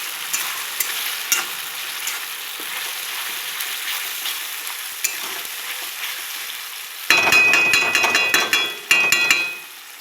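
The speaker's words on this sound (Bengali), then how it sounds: "ভালো করে মশলা কাঁচা গন্ধ যখন চলে যাবে তখন চিকেনটা দিয়ে দেবো" Chicken pieces going into masala already frying in a pan for a thin chicken curry: a steady sizzle gives way to a loud, crackling burst of frying that lasts a couple of seconds and then eases off.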